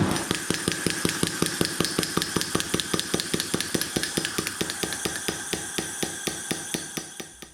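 A homemade Fremen thumper prop, running on fuel with CO2 ignition, thumps in a rapid, regular series of loud, sharp impacts that slows slightly over a few seconds, with no voices.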